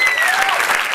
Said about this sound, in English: You can actually applaud a little harder.